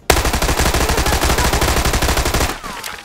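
Rapid automatic gunfire in a shooting video game, where each bullet costs 1000 won, fires as a dense, loud, continuous burst for about two and a half seconds and then cuts off abruptly.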